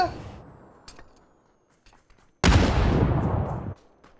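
A grenade bursts in the shooter game PUBG: one sudden, loud, broadband blast that roars and rumbles for over a second before cutting off, after a stretch of quiet game ambience with faint ticks.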